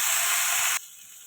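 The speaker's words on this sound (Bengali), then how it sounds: "এটা ভালো করে একটু লবণ আর হলুদ দিয়ে ভেজে নেব" Okra frying in oil with salt and turmeric gives a loud, steady hiss that cuts off abruptly partway through, leaving only a faint residual sizzle.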